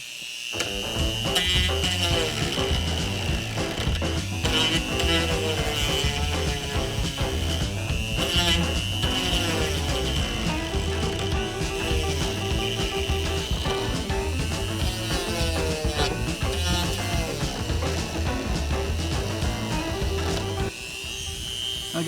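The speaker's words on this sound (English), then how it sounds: "I'm going to try to Dremel it" Dremel rotary tool grinding down a plastic skid plate for a Ford Maverick, a steady high whine held almost without a break and loud and close throughout.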